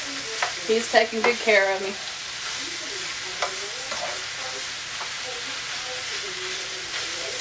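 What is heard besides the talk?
stirring frying cabbage and spicy hamburger stir fry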